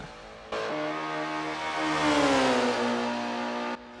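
A Ford Capri Group 5 race car with a turbocharged 600-horsepower Cosworth engine screams at high revs, loud and close, its pitch sweeping down and settling before cutting off abruptly.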